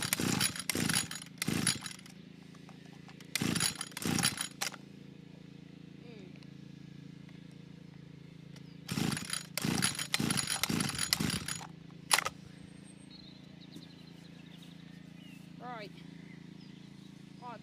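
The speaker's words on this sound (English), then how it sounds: "it does only seem to want to run on choke" Stihl FS81 strimmer engine that will only keep running on choke, idling with a low steady drone broken by several bursts of revving, with someone speaking quietly in between.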